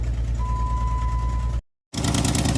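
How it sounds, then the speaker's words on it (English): Engine of a Jeep with electronic fuel injection idling roughly with a dead cylinder, giving a steady, low, throbbing drone close by. A thin whine sits over it, and the sound cuts out briefly before resuming louder. "Time to start the Jeep up and see which cylinder is dead"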